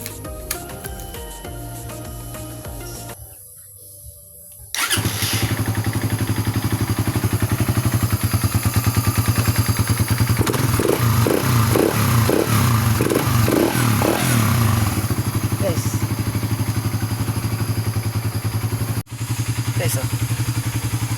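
A Raider Fi 150 motorcycle fitted with an open throttle body, mushroom air filter and exhaust, starting after a quieter stretch and then idling loudly with a run of quick throttle blips in the middle, people talking nearby.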